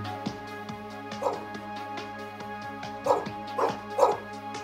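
Cyber rescue dog at a disaster-response field trial, giving several short, high yips and barks spread across a few seconds over a steady mechanical hum.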